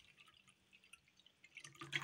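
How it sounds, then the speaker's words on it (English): Faint trickling and dripping water builds into a louder splashing pour toward the end, close by and quiet overall. "So I'm going to go ahead and pour the water into the bowl."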